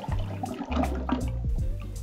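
Unsweetened orange juice poured for a Malibu cocktail, a close liquid glug and trickle with bubbling gurgles in short bursts over about two seconds, no speech.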